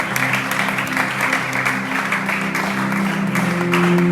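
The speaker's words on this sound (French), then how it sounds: "Est-ce que quelqu'un peut acclamer pour le Seigneur?" Church congregation applauding for the Lord, a steady wash of clapping that runs continuously over sustained music tones.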